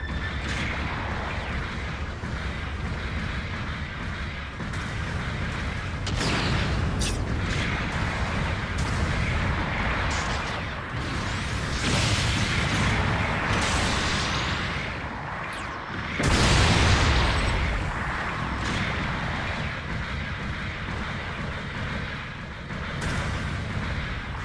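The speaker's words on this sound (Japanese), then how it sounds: "後方部隊からの支援砲撃が来ます。" Support artillery bombardment rains down in the mecha video game Gundam Battle Operation 2, with repeated loud booms and blasts layered over constant battle noise, heaviest bursts near the middle and toward the end.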